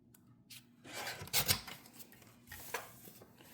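Scissors snip through scrap paper close by, a few quick crisp cuts with soft rustling between them.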